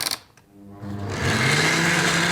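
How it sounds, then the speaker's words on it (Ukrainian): A kitchen blender whirs loudly and steadily as it blends a few sage leaves into mashed potatoes, starting up after a brief lull and running continuously at close range. "блендере это, конечно, происходит все очень быстро"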